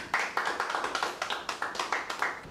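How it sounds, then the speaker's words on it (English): A small audience gives a round of applause at the close of a quiz-style episode, with distinct, fairly sparse claps in an uneven rhythm, close and clear, with no voices over them. "Let's have a round of applause for all of them."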